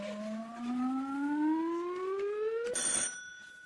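A quiz buzzer: a long electronic tone sweeps steadily upward in pitch for nearly three seconds, then ends in a sharp, bright electronic ring.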